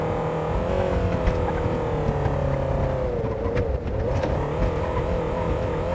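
A small toy car motor whines and revs continuously, its pitch wavering up and down as it speeds and slows, close by with no talking.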